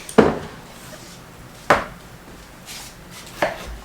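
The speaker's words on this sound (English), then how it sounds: "And I'll cut the tomatoes." A knife chops tomatoes into quarters on a board, three distinct sharp thuds spaced about a second and a half apart, close and clear with no talking.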